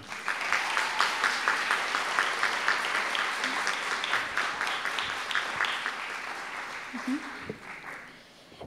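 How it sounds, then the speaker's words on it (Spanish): Audience applause fills an award ceremony for a student ideas competition, a steady dense patter of many hands clapping that fades toward the end, with a brief voice near the close. "Es por eso que pedimos un fuerte aplauso para todos ustedes."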